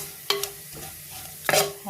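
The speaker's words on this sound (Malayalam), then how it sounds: "മല്ലിപ്പൊടി, മുളക് പൊടി, മഞ്ഞൾപ്പൊടി ഇതെല്ലാം ചേർത്തിട്ടുണ്ടെങ്കിൽ ഇത് സിമ്മിലിട്ടിട്ട് വേണം" Coriander, chili and turmeric powders frying in a pan for a Kerala-style tuna curry, with a soft steady sizzle broken by a few sharp stirring scrapes near the start and again toward the end.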